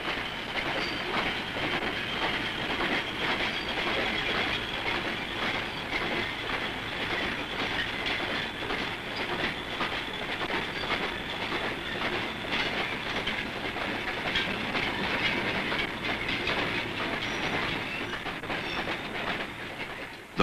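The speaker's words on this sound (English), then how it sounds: "a fully fitted freight train leaves Sheffield for Birmingham" A fully fitted freight train hauling a day's output of steel strip from Sheffield to Birmingham in 1966 rumbles past steadily, with continuous wheel clatter and a faint squeal, loud and unbroken throughout.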